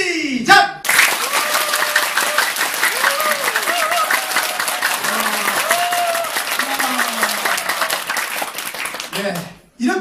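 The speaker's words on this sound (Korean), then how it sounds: "자, 이번에는 최대한 빠르게 10초 동안만 한번 쳐보겠습니다" A lecture audience claps as fast as possible for ten seconds, producing a dense, loud, continuous roar of rapid hand claps, with a speaker's voice briefly at the start and end and some talking over it.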